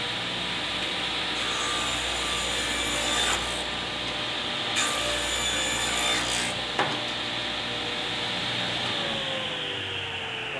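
A Master Force table saw with a new blade cuts through wood, its loud, steady whine holding for several seconds, with the pitch shifting as the blade bites in and then spinning down.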